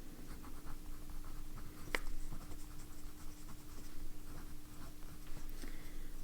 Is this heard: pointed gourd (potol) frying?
no